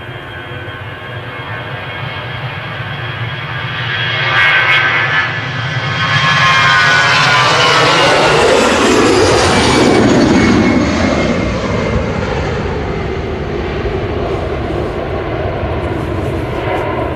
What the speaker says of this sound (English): And you can hear the next plane.